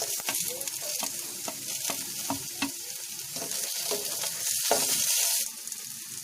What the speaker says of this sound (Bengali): এবার এতে আমরা মিক্স করছি কাঁচা লঙ্কা এবং টমেটো।